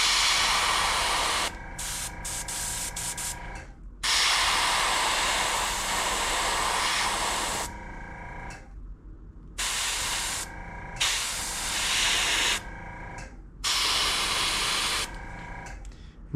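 Airbrush spraying solid black paint onto the back of a fishing crankbait: bursts of close, steady hiss separated by short silent gaps.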